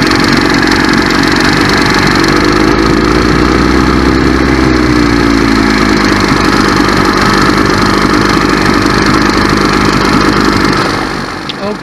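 A 1963 Johnson 28 hp outboard motor warms up, running loud and close at a steady, throbbing idle that barely changes before easing slightly at the very end.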